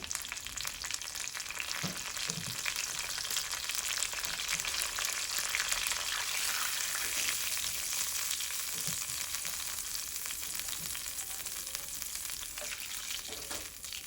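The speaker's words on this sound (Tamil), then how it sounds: "இவ்வளோ தண்ணி விட்டு கொதிக்க விடுங்க." Eggplant bharta with turmeric and water bubbling and sizzling in a pot on a stove, a steady close hiss with soft pops throughout and no talking.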